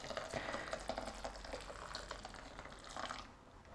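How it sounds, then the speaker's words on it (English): Water pours into a pot of grapefruit syrup, a steady splashing fill that runs for a few seconds and then tapers off, quiet and close with no talking. "we're gonna add the rest of our liter of water in here"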